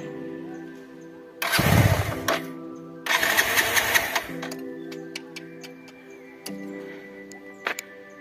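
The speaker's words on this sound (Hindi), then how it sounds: "बाइक स्टार्ट नहीं हो रही है" A motorbike in cold weather cranks repeatedly without starting, two loud starter bursts sputtering briefly amid quiet ticking and faint background sounds.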